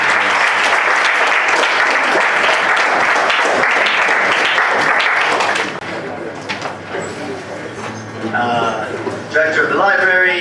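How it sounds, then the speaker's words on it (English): Loud audience applause at a national debate championship final welcomes a speaker, dense clapping that fades after about five seconds as a voice begins talking over the tail of the clapping. "And please, with a round of applause,"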